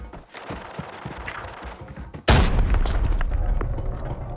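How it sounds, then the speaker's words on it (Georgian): A grenade detonates in the shooter game Arena Breakout with a sudden loud boom partway through, followed by a sustained rumbling roar; softer clicks and movement sounds come before it, with a voice briefly heard. "Grenade out."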